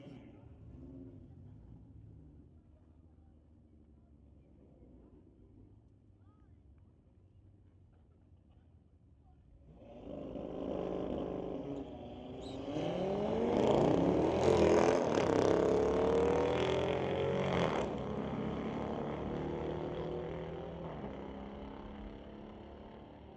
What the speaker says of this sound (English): We'll bring up Rudu Stemescu, brings up his 2018 Audi, going up against Luke Brown and the BMW.